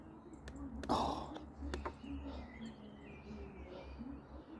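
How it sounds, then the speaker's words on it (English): Blackbirds sing at dusk, sparse and faint in the distance, a few thin chirps and calls over quiet outdoor ambience. "The blackbirds are slowly, one by one, stopping."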